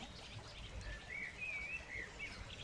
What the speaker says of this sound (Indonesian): di belakang sana ada suara burung berkicau